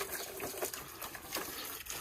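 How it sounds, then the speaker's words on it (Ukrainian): Water running from a tap while a rabbit-keeping item is soaked and loosened before scrubbing with a brush, giving a steady, fairly faint splashing hiss throughout with no voices. "Просто беру, включаю воду."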